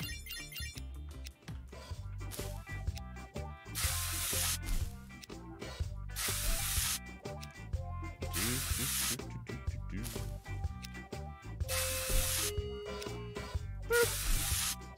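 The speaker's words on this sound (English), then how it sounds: "let me go ahead and spray." Pesticide is sprayed on crops in the Weed Shop 2 PC game, a series of repeated hissing spray bursts laid over looping background music, with a ringing tone near the end.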